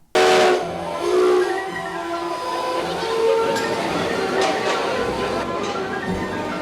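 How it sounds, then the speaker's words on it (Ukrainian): A 1953 retro steam train lets out a sharp blast on its steam whistle, then a long, broad hiss of escaping steam continues behind it in a winter outdoor setting. "Ретропотяг 1953 року, огорнутий хмарою білого диму."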